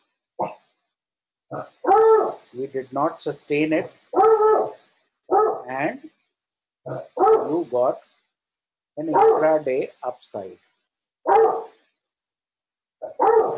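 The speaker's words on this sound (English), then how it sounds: "sorry for my dogs who find it very convenient to bark just at the point where I'm trying to make a video" Several dogs bark in short bursts at close range, heard between and under steady talk from a man.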